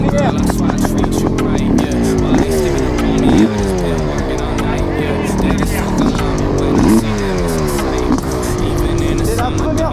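A 500 CR supermoto motorcycle being ridden, its engine revving in repeated rising sweeps as the rider accelerates and shifts through gears, loud and close throughout with wind noise.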